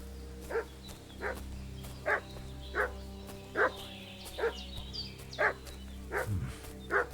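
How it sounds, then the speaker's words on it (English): A dog barks repeatedly in the medieval video game Kingdom Come: Deliverance 2, about nine evenly spaced barks at mid distance over a low steady hum. "What's that dog making such a fuss about?"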